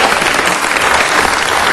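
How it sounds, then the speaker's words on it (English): Brief burst of applause at a city council meeting welcoming visiting second-grade schoolchildren from Eagle Rock Elementary School, a dense, loud round of clapping from the room. "Let's give them a round of applause"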